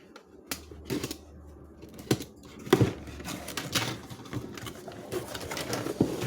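Packaging of a SAMPA clutch servo for a DAF 95 / XF truck being opened by hand, with scattered crinkles, taps and rustles of plastic and cardboard in uneven bursts, close and fairly quiet.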